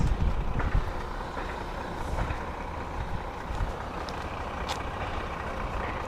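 A car engine idles steadily as it warms up at an outdoor used-car market, a low continuous rumble with faint distant traffic and market noise around it.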